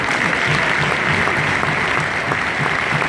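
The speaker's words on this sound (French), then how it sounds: "sur les applaudissements, mesdames et messieurs" Steady, dense applause from an audience in a hall honouring a departing AS Monaco player joining Montpellier, filling the whole stretch at an even level without talk.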